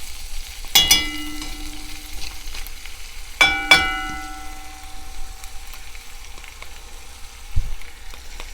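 Sofrito and ham sizzle steadily in a pot for Puerto Rican habichuelas, a constant soft frying hiss with two ringing metallic clangs of a utensil against the pot and a later dull knock.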